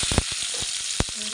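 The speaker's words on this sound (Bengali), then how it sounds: "এখন আমি তেলের উপরে কচুগুলো দিয়ে দেব।" Taro pieces hiss and sizzle steadily in hot oil in a kitchen pan, with several sharp clicks and taps of a utensil against the pan.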